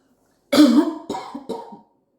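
Three harsh coughs from one person nearby, the first longest and loudest, followed by two shorter ones in quick succession.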